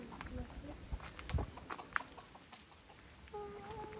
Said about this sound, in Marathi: it's a rooster and chicken आहे